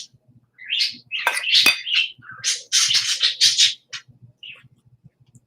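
Birds chirp and squawk up close in a burst of high, busy calls, then quiet down, with faint soft ticking sounds underneath.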